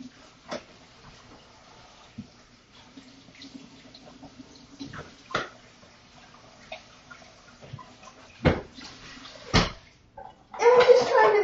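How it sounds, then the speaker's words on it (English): Cool tap water runs over almonds in a kitchen, a soft trickle under a few sharp clinks and knocks, ending in a louder gush of flowing water. "So I'm gonna run some cool water."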